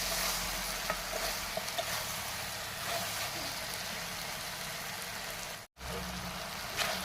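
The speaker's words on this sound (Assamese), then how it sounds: "এতিয়া এইখিনি ধুনীয়াকৈ লৰাই লৈছোঁ" A spoon stirs taro flower, potato and local chicken curry in a pot, giving a continuous scraping, bubbling sizzle up close with a brief break near the end.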